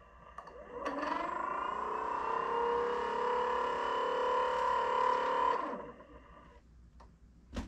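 Sublue Navbow underwater scooter motor in sport mode, a steady tonal whine and hum that starts around one second, holds evenly for several seconds, then cuts off, leaving quiet background.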